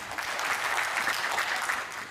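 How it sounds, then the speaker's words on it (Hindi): Brief, steady applause from an audience at a Hindi love poetry reading, an even wash of many hands clapping at moderate distance. "अगर आप लोग सहमत हो ताली बजा सकते हैं"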